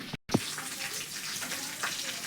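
Pieces fry in a pan of oil for Bengali chicken curry with kaanchkola and papaya, giving a continuous hissing sizzle nearby, broken by a brief gap and a soft clink.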